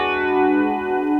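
A Gibson LPX Les Paul electric guitar plays a sustained chord through a modulation effect, its tone shimmering and gently wavering with a chorus-like warble, heard loud and alone.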